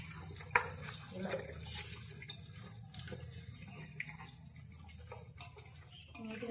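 Raw chicken being washed by hand in water with rock salt, with soft sloshing and splashing, occasional clinks and rubbing noises, fairly quiet and continuous.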